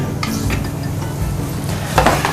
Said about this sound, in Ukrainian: Зараз ми ставимо наш лосось на підігріту грильову сковорідку.